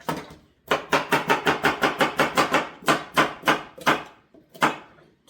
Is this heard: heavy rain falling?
no